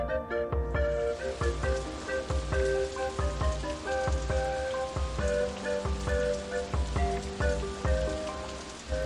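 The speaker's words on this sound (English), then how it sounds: "Rain time!" Rain patters steadily over a theme park in the OpenRCT2 game, a continuous soft hiss under the game's melodic background music with regular rhythmic beats.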